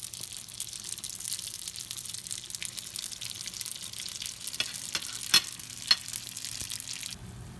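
Sufganiyot jelly doughnuts fry in hot oil with a soft, continuous sizzle and crackle, joined by a few sharper pops and light clinks near the end.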